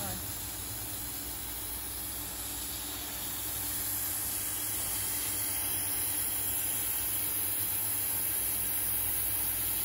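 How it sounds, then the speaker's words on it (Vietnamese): Steam hisses steadily from a 6-litre French T-fal pressure cooker, a loud, continuous close-up rush of air that grows slightly stronger partway through. "cái hơi nó ra bớt một mớ ở trong nồi này đây nè"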